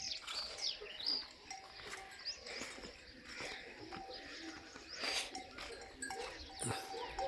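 Goats bleating at a village farmyard, several calls scattered across the stretch amid birdsong and pigeon coos, moderately distant over a steady outdoor background.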